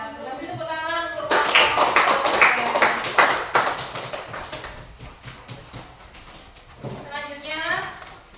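Applause from a classroom audience after a class presentation, a burst of clapping that rises and then fades, with voices speaking before and after it.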